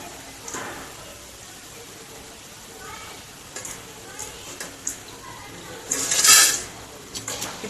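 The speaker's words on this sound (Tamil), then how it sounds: "இப்படி பிளேட்டில் விழும்போது சவுண்ட் வரும்" Freshly fried crispy kara sev falls onto a plate with light crackling rattles and soft clatters, ending in a brief, brighter clink of utensil on dish.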